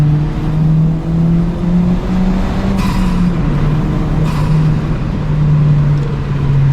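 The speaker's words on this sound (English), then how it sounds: "that exhaust never gets old" A turbocharged Honda Civic Si engine on its lowest boost map drones steadily with a low exhaust rumble, rising slightly as it accelerates, with a couple of brief higher bursts; no voices.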